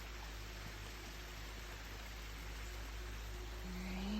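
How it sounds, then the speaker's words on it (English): A small waterfall on a rural spring hillside rushes steadily in the background, a soft, constant broadband roar with no speech over it. "See, there's our waterfall."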